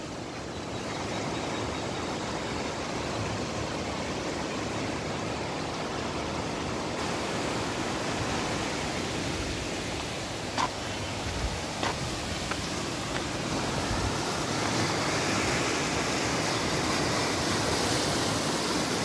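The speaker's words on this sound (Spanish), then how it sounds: "Vamos a grabar el arroyo." Constant rushing water from a stream swollen after rain in Limón Grande, Guerrero, Mexico, flows steadily, with a few faint clicks and taps partway through and no speech.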